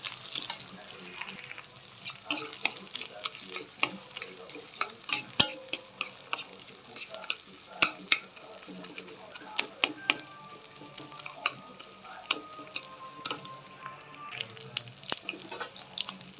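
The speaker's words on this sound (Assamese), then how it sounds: "আলুখিনিও ভাজি ল'ব লাগিব" Potatoes frying with salt and turmeric in a wok: a soft continuous sizzle broken by frequent sharp scrapes and clinks of a spatula stirring against the pan, close and irregular throughout.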